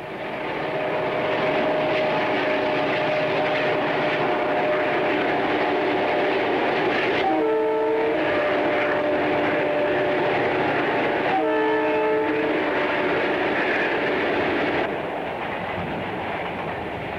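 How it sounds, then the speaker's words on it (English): Diesel locomotives 426 and 405 rumble northbound across a bridge over the Biscayne Canal in Florida, a steady loud engine roar throughout with two short horn blasts midway and a few seconds apart. "426 and 405 rumble northbound over the Biscayne Canal"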